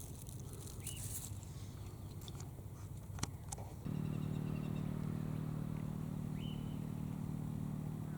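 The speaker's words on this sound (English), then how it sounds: "I can hear the postman's motorcycle." A postman's motorcycle passing at a distance, a faint engine hum that steps up into a steadier, louder drone partway through, heard outdoors near a meadow, with a sharp click partway through and no talking.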